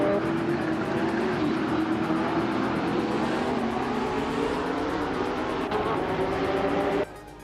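Race cars, including a 2012 Subaru BRZ, roar past in steady engine drone with shifting revs and passing sweeps, loud and continuous before cutting off abruptly near the end.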